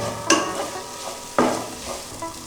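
A raw mango rice mixture for traditional Brahmin-style chitranna being stirred in a pan, two distinct scraping strokes of a spoon over a soft sizzle, close and without voices.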